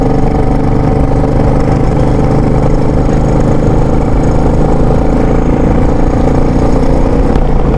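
A motorcycle engine runs steadily at idle on a mountain road from Kaza toward Losar, a loud, close, even mechanical drone that holds without interruption from start to finish.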